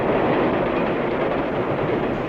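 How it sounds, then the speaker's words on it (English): A subway train rolls along its rails in a continuous loud, dense rumble with steady rattling, close and unbroken, with no voices. "The subway."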